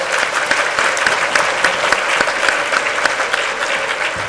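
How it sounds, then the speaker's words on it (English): Audience at a Hindu temple event in Richmond Hill applauds children with sustained, dense clapping that fills the room at steady loudness throughout. "I think we should give the children a very big round of applause."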